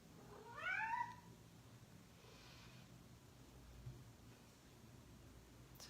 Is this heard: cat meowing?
yes